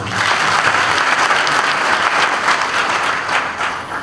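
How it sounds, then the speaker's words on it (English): Audience applause at a naval passing out parade and commissioning ceremony for special duties cadets, a dense, steady crowd clapping that stays loud throughout with no voices over it. "A round of applause for the man."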